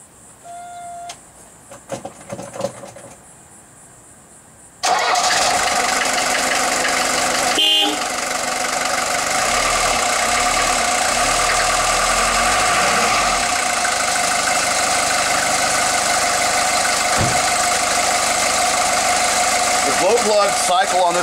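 A 1983 Mercedes-Benz 240 D diesel with a four-speed manual cranks over and catches, then settles into a loud, steady clattering idle that runs on for a long stretch, preceded by quiet clicks.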